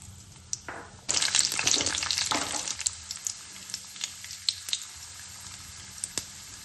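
A sudden burst of loud sizzling as tempering spices hit two spoons of hot oil, crackling sharply and then settling into quieter popping and spitting.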